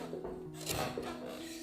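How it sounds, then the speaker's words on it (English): Someone sands a hand-carved wooden piece with soft, uneven rasping strokes, close and fairly quiet, with a faint background hum. "We're just sanding that one down."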